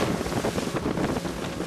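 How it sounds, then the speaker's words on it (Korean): A fast fish carrier boat that hauls gizzard shad speeds out to sea, heard as a brief burst of rushing water and strong wind buffeting the microphone, loud and close, with no voices. "배 한 척이 빠르게 바다로 나갑니다."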